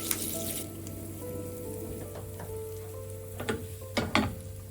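Oil with curry leaves sizzles quietly and steadily in a pan as a tempering for bisi bele bath, with a few sharp crackles and pops near the end.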